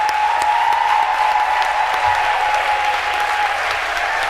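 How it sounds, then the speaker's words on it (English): Steady, dense applause from a large crowd, continuous and fairly loud throughout with no pauses. "let's give a huge round of applause"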